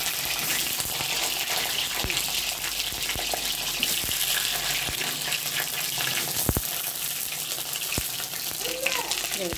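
Eggplant fries in hot oil in a pan over a high gas flame, making a loud, dense, steady sizzle that fills the whole stretch, with a few sharp pops and crackles rising above it.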